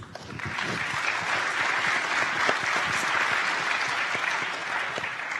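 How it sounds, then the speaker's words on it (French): An audience applauds steadily at a business round table, a dense patter of many hands clapping at an even level throughout. "c'est Sylvain Convert, qu'on applaudit lui aussi."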